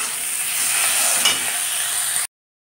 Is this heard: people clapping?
no